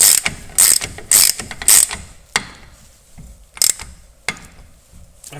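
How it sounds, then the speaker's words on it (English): A ratchet snugs up the CV axle nut on a Volkswagen Golf Mk4 TDI, heard as close, sharp bursts of clicking pawl, several quick strokes at first, then slower, sparser clicks with pauses. "I'm just going to tighten it up until it's snug."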